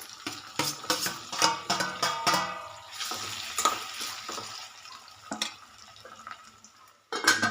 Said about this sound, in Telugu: టమాటా కూడా వేసేసుకుందాం.